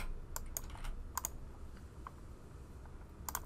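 A computer keyboard is handled at a desk while a Python editor is set up, giving a sparse scatter of quiet, close clicks and taps, some in quick pairs, over a faint room hiss.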